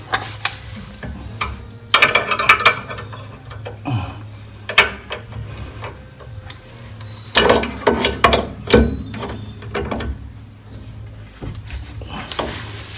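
A bolt is tightened during shock absorber replacement on a 2012 Toyota: bursts of ratcheting mechanical clicks with metallic clanks and pauses between turns, close by, with no voices.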